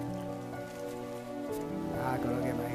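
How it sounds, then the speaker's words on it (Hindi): Steady heavy rain hisses throughout, with tonal music or voices layered over it and swelling toward the end. "इतनी तेज बारिश में कौन आएगा"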